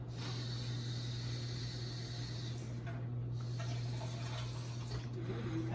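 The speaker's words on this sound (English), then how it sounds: "in the measuring cup again, I'm gonna put 1/3 of a cup of water, warm water." Warm water runs steadily into a measuring cup for a home batch of yeast rolls, a continuous hiss and trickle with a constant low hum beneath it.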